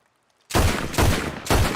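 Three loud shots from a thin-slide .32 ACP pocket pistol in Red Dead Redemption 2, each a sharp blast with a long ringing tail, spaced about half a second apart after a short silence.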